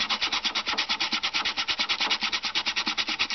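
Stiff brush scrubbing old glue off the paper cone of a Bose 901 Series 3 speaker, a steady rapid back-and-forth rasp of about ten strokes per second, close and loud throughout with no talking.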